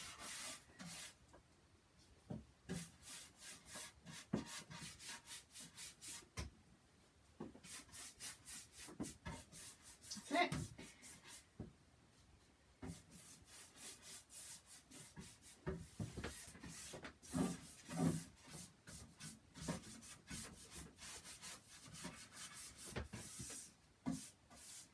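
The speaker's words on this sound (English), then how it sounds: "I'm just doing the edges, because that's all I'm going to be rubbing back" Chalk-painted wooden drawer edges being rubbed back with an abrasive, a steady near scratchy scraping in repeated strokes with a few short pauses, loud and continuous.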